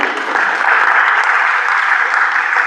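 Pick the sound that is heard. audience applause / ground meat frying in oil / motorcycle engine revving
audience applause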